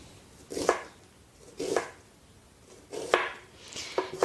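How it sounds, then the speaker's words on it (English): Four separate knife strokes cut down through an onion onto a cutting board, each a crisp, close thunk with a short crunch, spaced roughly a second apart. "And then I go back and I just cut straight down."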